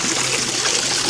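Glacier water trickles and splashes steadily as a bottle is filled outdoors on a New Zealand glacier, a close, continuous bright gurgling with no voices.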